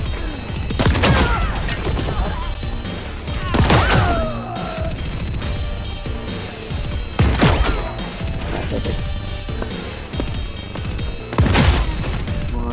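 Shotgun blasts in the video game Paint the Town Red, with four loud, booming shots spaced a few seconds apart over a busy, clattering game soundscape.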